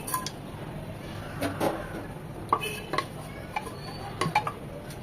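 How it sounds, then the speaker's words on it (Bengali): Cumin, a cinnamon stick and a bay leaf dropped into hot soybean oil and ghee in a pan, with faint sizzling under scattered clinks and scrapes of a spoon against metal. "ফোড়নের জন্য দিয়ে দিচ্ছি হাফ চামচ জিরা একটা দারচিনি আর একটা তেজপাতা"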